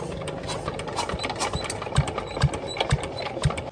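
Peter diesel engine driving a sugarcane crusher for jaggery making, running with a rapid mechanical clatter and regular knocking thumps about twice a second, close and loud with no talk.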